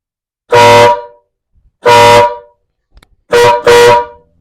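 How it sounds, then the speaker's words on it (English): Four loud, close blasts from a Horn Blasters electric mini air horn: two single honks about a second apart, then two quick back-to-back ones, with silence in between. "That's the Horn Blasters electric mini air horn."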